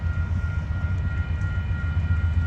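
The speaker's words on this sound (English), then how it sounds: "So we have a train coming. It's a intermodal train." An intermodal freight train approaches on a rainy day in Rochelle, a steady low rumble and rolling drone of rail traffic building in the background with no one speaking.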